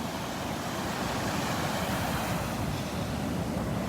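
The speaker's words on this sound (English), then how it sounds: "Look at those waves, wow." Ocean surf breaks along a Gulf beach at Delnor-Wiggins on a Sunday morning, a continuous broad wash of waves with wind noise on the microphone and no voices.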